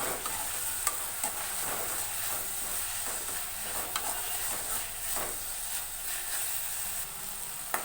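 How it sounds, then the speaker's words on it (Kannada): Tomatoes with salt stirred in a frying pan, a steady close sizzle and hiss running throughout with scattered soft scrapes of the spoon, no talking. "ಎಲ್ಲ ಚೆನ್ನಾಗಿ ಮಿಕ್ಸ್ ಮಾಡ್ಕೋತಾ ಇದ್ದೀನಿ"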